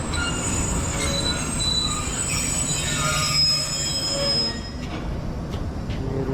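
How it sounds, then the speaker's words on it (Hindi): Khyber Mail passenger train braking into Raiwind station in Pakistan, wheels squealing with sustained high metallic tones over a loud rumble that eases slightly near the end. "ट्रेन हमारी रायविंड के रेलवे स्टेशन पर रुक गई है"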